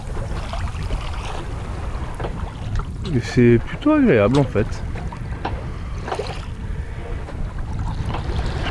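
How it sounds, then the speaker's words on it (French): Steady wind and water rush around a sailboat at sea, a constant broadband hiss with someone talking over it in the middle. "le vent reste quand même assez stable"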